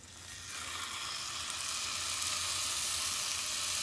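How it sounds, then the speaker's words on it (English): A cowboy ribeye steak hits a hot cast iron pan, a loud hissing sizzle that rises within the first half second and then holds steady and close. "Just until that sizzle."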